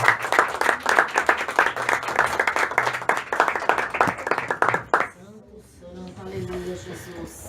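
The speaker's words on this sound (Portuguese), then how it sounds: "E as palmas é para você." Congregation in a church clapping in a dense rhythmic burst, loud and close, stopping abruptly after about five seconds, followed by a quieter stretch with faint voices and music.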